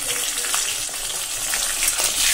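Food sizzles and spits in a hot frying pan, a loud, close, continuous crackling hiss with light stirring and no talk.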